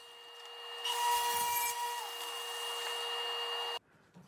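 A powered saw cuts through plywood stiffener pieces for a router sled, a steady whining, rasping cut lasting about three seconds at close range before stopping abruptly, with no talking.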